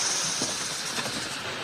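A train idles at a station before departure, giving off a steady broadband hiss and rumble with faint mechanical clicks, continuous and moderately loud throughout.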